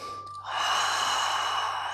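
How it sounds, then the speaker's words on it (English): A single deep inhale during a yoga flow, a soft breathy rush of air that starts after a brief pause and holds steady and close for over a second. "Inhale."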